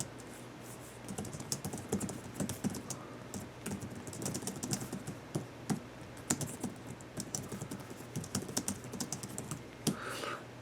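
Rapid, uneven typing on a Belkin Qode Ultimate Pro keyboard case for an iPad Air 2, close and steady with dense clicky keystrokes running throughout and no voices.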